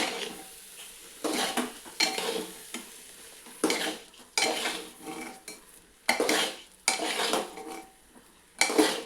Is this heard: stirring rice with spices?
yes